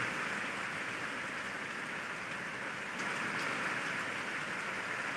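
Heavy rain pours in Chhatrapati Sambhajinagar, a dense, steady hiss of falling water that fills the whole stretch without pause, with no voices.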